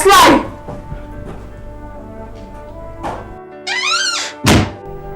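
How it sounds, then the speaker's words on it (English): A door bangs shut with a loud, abrupt thump at the start, followed by further knocks and thuds with a short voiced cry in between, in a dramatic indoor scene. "He banged the door on me."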